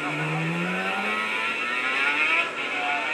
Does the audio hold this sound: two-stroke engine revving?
yes